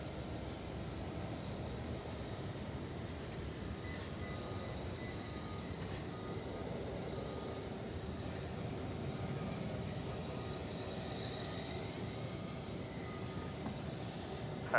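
A jet at DFW Airport rumbles steadily for the whole stretch, a broad, continuous roar of engines with no voices over it.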